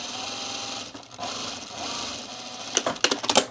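A sewing machine stitches elastic onto a fabric oven mitt, whirring in a steady fast buzzing run with a brief pause, then a few sharper clicks near the end, close and fairly loud.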